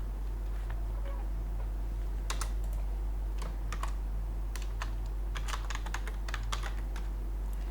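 Rapid clusters of keystrokes as code is typed on a computer keyboard, close and crisp over a steady low hum, with short pauses between bursts and no talking.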